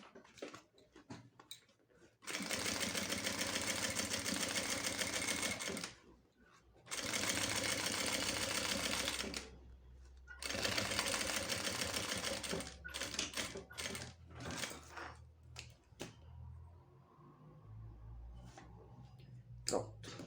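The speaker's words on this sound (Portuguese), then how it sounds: "vem colocando a costurinha de pesponto e para segurar o plástico cristal" Sewing machine topstitching clear plastic onto a fabric zip pouch, running in three loud steady bursts with short pauses, followed by scattered clicks and handling noises.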